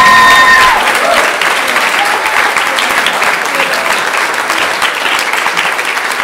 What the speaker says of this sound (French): Je crois qu'on peut encore applaudir